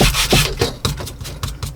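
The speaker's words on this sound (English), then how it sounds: "the sanding block right over the top of the eggshell." Quick rhythmic scraping of a sanding block rubbing back and forth over hard, brittle eggshell on an index card, close up, several short strokes in a row.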